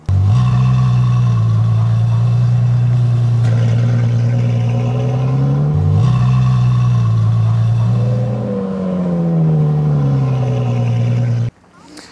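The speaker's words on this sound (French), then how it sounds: "je vais vous retourner la voiture" A Ferrari F12 Stallone Mansory idles and rumbles at low speed while being turned around, a steady deep engine drone with slight rises and dips during the manoeuvre, close and loud, cutting off abruptly near the end.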